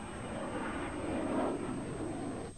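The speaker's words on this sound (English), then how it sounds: "His remarkable tail slide, demanding for the pilot and engines of a high-performance jet and flown at low altitude, earned him attention and respect." A high-performance Soviet Mikoyan jet roars through a low-altitude tail slide at an air show, its engine noise a broad, sustained rushing rumble that swells and fades slightly.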